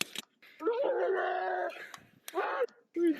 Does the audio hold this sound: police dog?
yes